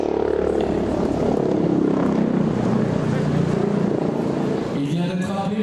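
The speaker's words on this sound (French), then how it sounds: "Arrive un nouvel acteur, l'hélicoptère H145 de la base la plus proche." Airbus H145 Sécurité Civile helicopter arriving at a civil protection base during a fire demonstration, a steady loud rotor and engine roar filling the whole stretch, with a narrator's voice over it.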